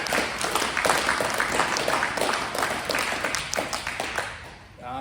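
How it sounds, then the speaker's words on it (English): A workplace toolbox briefing crowd gives a round of applause for an apprentice, dense clapping throughout that fades near the end, with some voices mixed in. "everyone give Ty a massive round of applause"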